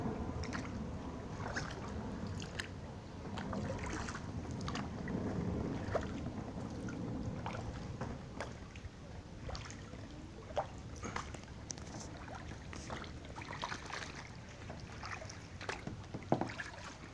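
Soft, irregular splashes and dips of a canoe paddle move through canal water in Bang Krachao, Bangkok, over a quiet, steady outdoor background.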